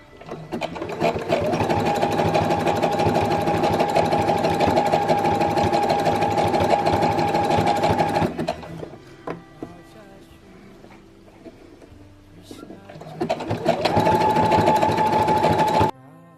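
A domestic sewing machine stitches elastic onto bra fabric in a loud, steady mechanical run of about eight seconds. It falls quiet with faint handling noises, then starts up again for a shorter close burst.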